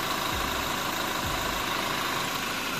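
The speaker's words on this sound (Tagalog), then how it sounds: "Ayan o, tumutunog yung makina niya ngayon," A car engine idling steadily, a continuous low mechanical hum with a faint repetitive knock, close and even, with no speech over it.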